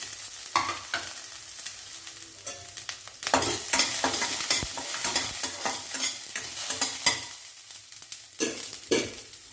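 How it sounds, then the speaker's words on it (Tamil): Chana dal, curry leaves, green chili and onion sautéing for kara paniyaram, with steady sizzling and repeated scraping stir strokes of a spoon in the pan, close and fairly loud, no talking. "கடல பருப்பு கருவேப்பிலை பச்சை மிளகா இதெல்லாம் வதங்கி வளர்த்து வெங்காயமாக சேர்த்துக்கலாம்"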